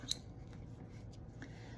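Dull sewing scissors give a faint early click followed by a couple of very soft snips, close but quiet against a low room hum.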